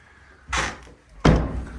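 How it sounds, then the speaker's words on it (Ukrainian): Two wooden doors of an old Ukrainian farmhouse bang shut one after the other, each a loud, close slam with a short thud, the second harder than the first. "Двері треба закривати."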